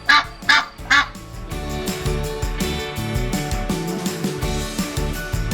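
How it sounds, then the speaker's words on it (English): A goose honks three times in quick succession, loud and close, after which a cheerful melodic music bed carries on to the end with no further calls. "A goose says"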